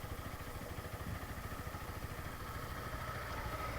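A motorcycle engine idles steadily while warming up at the start of the day, a low, even, throbbing putter that stays constant and close throughout.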